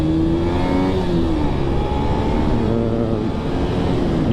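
A Honda VTR 250 motorcycle rides along a winding country road, its engine droning loudly with rising and falling pitch as the throttle is worked, with steady wind rush underneath.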